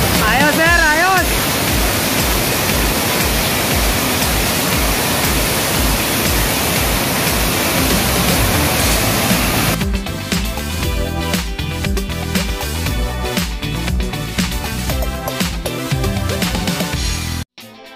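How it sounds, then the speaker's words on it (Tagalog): Tinago Falls waterfall rushes as a loud, dense, continuous roar, close and steady throughout, with other noise and handling sounds in the latter part. "Kami sa Tinago Falls."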